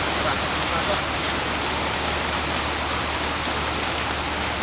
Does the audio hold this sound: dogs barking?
no